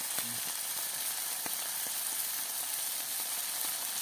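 Dried salted fish (tuyo) sizzles steadily in a pan with oil, a soft continuous frying hiss with scattered small pops and no speech.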